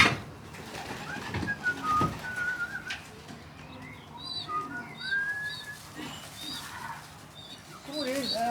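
A young pigeon bought from a breeder gives thin, high squeaks and short whistly chirps in a quiet loft, scattered irregularly and moderately near, with soft low voices and faint cooing in the background.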